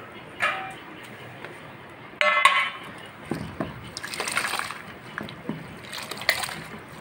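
Drumstick greens being washed in water: close splashes and sloshing, with a sudden burst of handling and intermittent splatters and drips in an uneven rhythm; no talking.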